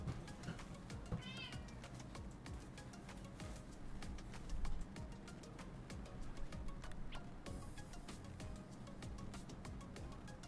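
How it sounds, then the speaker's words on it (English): A house cat meows faintly indoors, a short rising-falling cry near the start set against a low background hum and scattered small ticks, with no talking. "The cat meow."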